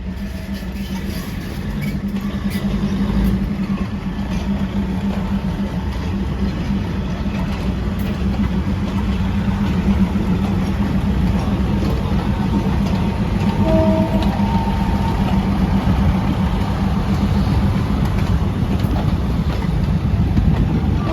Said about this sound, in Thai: เข้าสู่สถานีกรุงเทพมหานครชานชลาทางที่5นะครับ